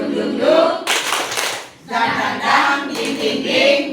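Rhythmic group clapping from a classroom-style clapping game called tepuk semangat, several bursts of hand claps mixed with chanting voices at close range, loud and energetic.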